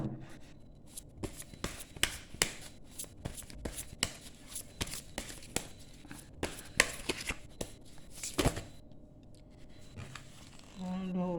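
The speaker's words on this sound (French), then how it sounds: "je vais battre les cartes et procéder au tirage" Oracle cards being shuffled by hand, a steady run of crisp riffling taps and flicks close to the microphone, with brief pauses and a voice speaking near the end.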